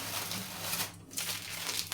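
A plastic bag of salt crinkles and rustles as it is handled close by, with a brief pause in the middle and no talking.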